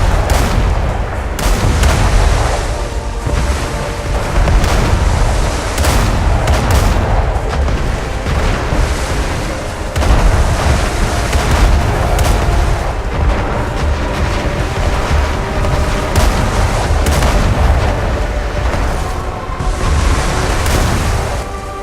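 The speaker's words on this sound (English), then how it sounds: "Use the cannon skills to attack the pirates." Ship cannons fire at pirates in the online game ArcheAge, a continuous barrage of loud, rumbling booms that overlap one after another without pause.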